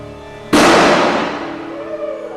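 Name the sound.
wheel puller pulling a steam locomotive wheel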